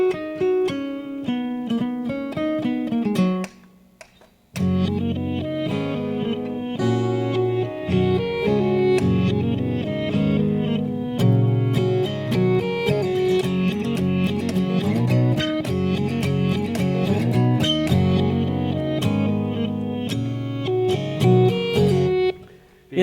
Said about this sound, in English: just the sound of the guitar going the other direction does sound quite interesting